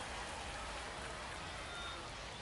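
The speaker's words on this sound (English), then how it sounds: "Nice rain shower" Steady rain shower pouring onto a baseball field on a minor league opening night, a dense, even hiss of drops with no voices rising above it.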